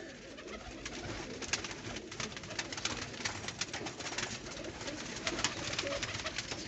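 Red-eyed pigeons coo steadily and close by, their soft repeated calls layered over one another throughout, with no talking.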